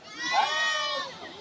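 Goats bleating in a crowded livestock market, a drawn-out, wavering bleat close by over a murmur of the busy crowd.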